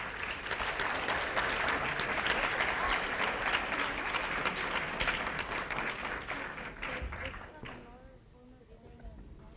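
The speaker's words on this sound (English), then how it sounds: "let's give a round of applause for the presentation" Audience applause at the close of a group presentation, a dense, steady roar of clapping that carries on for several seconds and then thins out, with a few scattered voices near the end.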